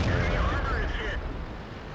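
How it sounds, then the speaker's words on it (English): A tank cannon round striking the player's Panther/M10 in World of Tanks, a heavy booming impact with rumbling low end and a ringing metallic tail that fades over about two seconds. "Comet gets another hit into me"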